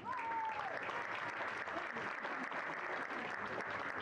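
Audience applause at an award ceremony for club show-jumping champions, steady and sustained clapping from a crowd filling the room, with a brief voice at the start.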